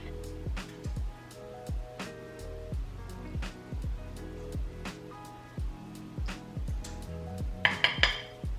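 A spoon scrapes and clinks around a bowl while stirring apricot bar glaze made with amaretto, giving repeated rhythmic knocks and scrapes close up, with a louder rattle near the end.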